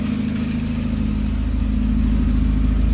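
A turbocharged Mazda Miata running Megasquirt engine management idles cold, a loud, steady, close low rumble with an even throb that holds unchanged for three seconds, with no talking.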